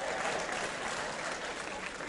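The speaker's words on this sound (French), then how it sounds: "Applaudissez." Audience applause at an African comedy show, a steady wash of clapping from a crowd, sustained and even throughout the short stretch.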